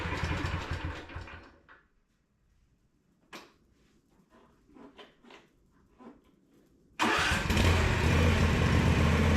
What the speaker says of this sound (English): And it fires right up.